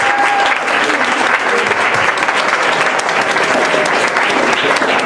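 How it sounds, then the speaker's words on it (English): A large crowd at a NAMIWalks mental-health fundraising walk event applauds its leadership, producing a loud, continuous roar of clapping held at an even level throughout, with no voices breaking through. "if the leadership could just stand and we give them a round of applause"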